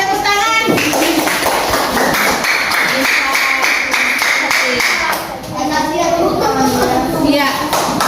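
Classroom of children clapping hands in rhythmic bursts, close and lively, with kids' voices chattering throughout.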